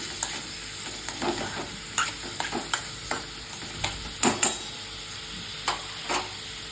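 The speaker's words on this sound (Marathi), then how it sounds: "याला आपण सारखं परतून घ्यायचं आहे आणि गॅस हा आपण बारीकच ठेवायचा आहे" Green tomatoes with garlic and a little salt sautéing in a pan over low heat, a soft steady sizzle broken by repeated scrapes and clinks of stirring, close and alone with no talk.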